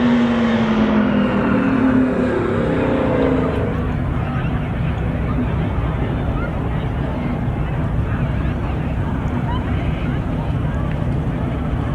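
Race cars in a spectator drag race at the Nutcracker Thrill Show roar past, a loud engine sweep fading early and leaving steady wind-blown rumble under an announcer's voice.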